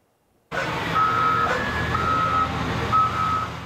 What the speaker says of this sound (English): The sound of change comes in the form of yet another construction crew working outside Alfonso Espino's home.